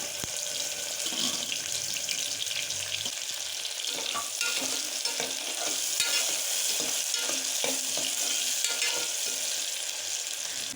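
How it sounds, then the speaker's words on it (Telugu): Onion pieces frying and stirred in hot oil in a pan for a mutton and raw mango curry, a steady close sizzle with scraping stirs throughout and no talk. "కొంచెం నూనె వేడైన తర్వాత ఉల్లిపాయ ముక్క వేసుకుని వేయించుకోవాలి"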